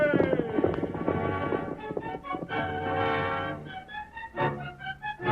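Horse hooves clip-clopping into a gallop in an old Lone Ranger radio drama, rhythmic hoofbeats under shouting voices and a whinny as the rider heads away toward Wild Horse Canyon.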